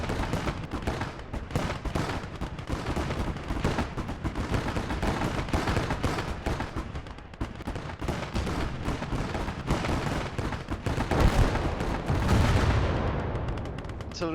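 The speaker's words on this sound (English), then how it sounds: "Artillery incoming." A video game battlefield erupts with artillery fire: sustained, loud barrages of booms and gunfire with dense overlapping blasts, one especially heavy low rumble near the end, and no pause in the chaos.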